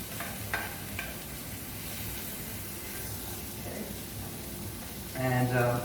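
Cauliflower egg fried rice with spring onion being stirred in a hot pan, a continuous soft sizzle with faint scraping, and a voice briefly speaking near the end.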